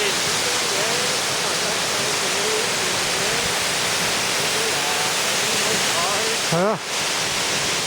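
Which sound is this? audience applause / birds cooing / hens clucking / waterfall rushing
waterfall rushing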